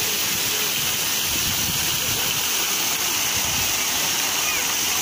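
Fountain water at Michurinsk railway station on a warm summer evening, a steady broad rush of splashing spray that stays loud and constant throughout with no pauses.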